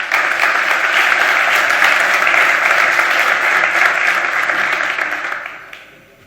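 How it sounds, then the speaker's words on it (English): Loud, sustained applause from an audience, steady clapping for several seconds before it fades out near the end. "Let's give her a big applause."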